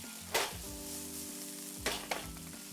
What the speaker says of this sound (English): I'm going to continue to let it brown for a little while and stir it just to get it off the pan